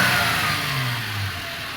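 Engine of a 1995 Suzuki Escudo running smoothly after a misfire repair, a steady close idle with a slight rev that settles back down, no voices.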